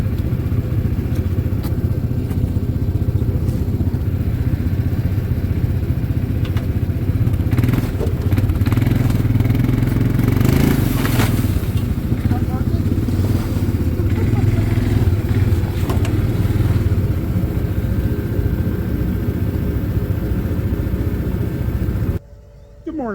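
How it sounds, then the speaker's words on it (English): A four-wheeler ATV engine idles steadily after a cold-start on a frosty farm morning, a loud continuous rumble with rattling clatter that cuts off near the end. "got the four-wheeler started"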